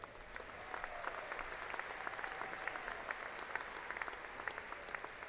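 A commencement audience at Angelo State University applauds graduates, with dense, continuous clapping that sounds moderately distant and fills the hall.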